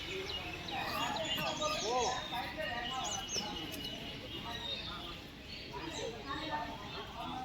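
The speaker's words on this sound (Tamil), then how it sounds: "நிறைய குயில்கள், எல்லா குருவிகள்லாம் எக்கச்சக்கமாக கத்திக்கிட்டே இருக்கும்." Koels and sparrows call at an old riverside Amman temple, a dense chorus of chirps, tweets and rising whistled notes spread across the scene, moderately distant over steady outdoor ambience.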